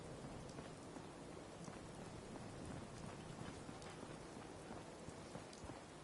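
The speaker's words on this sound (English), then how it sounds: "Hope this rain lets up soon." Steady rain falls in a video game scene, a dense even hiss of drops on surfaces lasting throughout with no talk and no other sounds.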